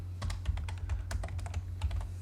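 Rapid typing on a computer keyboard while entering AutoCAD commands, a quick run of a dozen or so crisp key clicks over a steady low electrical hum, close and alone without talk.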